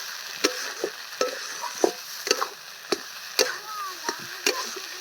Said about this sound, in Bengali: লঙ্কাগুলো ভেজে একটুখানি চিলি ফ্লেক্সের মতো করে নেওয়া হচ্ছে